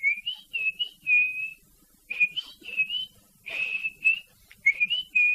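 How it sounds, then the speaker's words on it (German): A tune whistled in short melodic phrases, as if coming from inside a cardboard box, clear and fairly close, with brief pauses between phrases and no talking. "Als Papa Pauli wieder sein mittlerweile etwas ärgerliches Lied pfiff, pfiff der Karton zurück."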